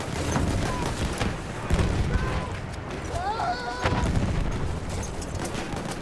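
Bomb explosions in Battlefield 1 land as repeated heavy booms amid steady battlefield noise and scattered gunfire, with people talking over the din.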